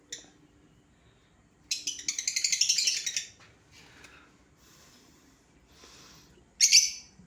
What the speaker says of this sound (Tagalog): Uy, may ibon. Nandito uli ang ibon, lovebirds.